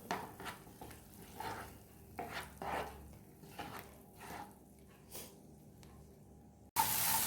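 Egg masala stirred and mixed on a tava for egg tava pulao, with repeated soft scraping strokes of a spatula against the pan at an uneven rhythm, faint and close, ending in a brief loud burst.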